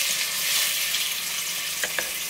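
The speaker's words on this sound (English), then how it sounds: "So I'm going to start putting the chicken in the pots." Seasoned chicken pieces frying and browning in a pot on a stovetop set a little too high, giving a steady close sizzle with brief louder crackles near the end.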